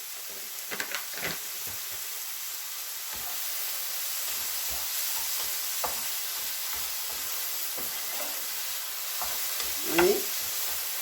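Apples sizzling in a pan with brown sugar, with a soft continuous hiss and occasional scraping and clinking as a spoon stirs them, no talk.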